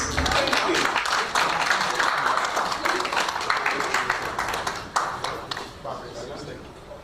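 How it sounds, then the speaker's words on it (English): A crowd applauds steadily with dense, sustained clapping that gradually tapers off toward the end. "Ladies and gentlemen, give him a round of applause"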